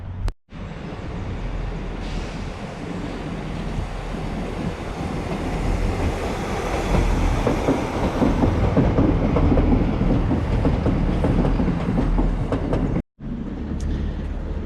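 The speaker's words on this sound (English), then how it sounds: "here comes a train." A train passes on a railway near a bridge, a loud continuous rumble with clattering wheels that swells to a peak midway and holds, then cuts off abruptly near the end.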